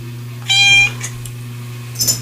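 A pet cat meows loudly and close by, one clear drawn-out meow followed by a short second cry, over a steady low electrical hum.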